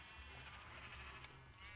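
Minecraft sheep bleating in a video game, a steady near bleat held under a continuous hum across the short span.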